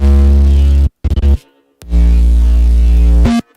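Clean, smooth bass synth notes, sustained and fairly loud, with a short stuttering burst and a pause between two longer held tones.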